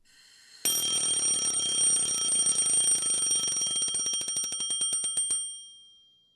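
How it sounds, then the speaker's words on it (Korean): A mechanical alarm clock bursts into a loud, continuous metallic ring and rattles steadily for several seconds, its strikes then slowing into separate clangs before it stops. "반사적으로 자명종을 누른다."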